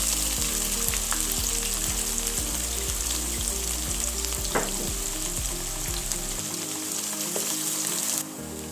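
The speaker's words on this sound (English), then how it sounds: "these onions no need to fry until golden brown color, so frying little bit is enough" Chopped onions with cumin seeds sizzle and crackle steadily in hot oil in a pan, with a few soft stirring scrapes, continuous and close.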